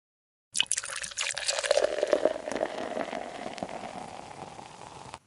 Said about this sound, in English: Here in this glass bowl, I have an activated mixture of yeast and milk, which I will pour now.